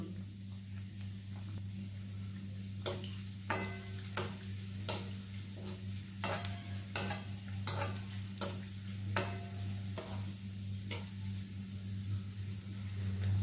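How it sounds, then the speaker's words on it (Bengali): Chicken spring rolls made with sheets frying in hot oil, a faint bubbling sizzle under a steady low hum, with sharp utensil taps and clicks spaced irregularly across the span, and no voice. "একটু গোল্ডেন ব্রাউন হওয়া পর্যন্ত আমি এটাকে ভাজবো।"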